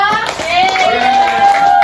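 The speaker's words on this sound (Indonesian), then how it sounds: "Beri tepuk tangan untuk kelompok 3." Schoolchildren in an elementary math class clap hands together for a group, a brief, loud burst of claps with children's voices around it.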